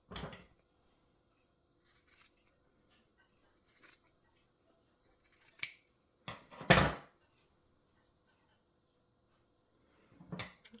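Scissors snip scraps of macrame cord in a quiet room, a few sparse, soft cuts and rustles spread out in time, with one louder cut near the middle.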